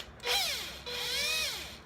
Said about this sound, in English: now get the drill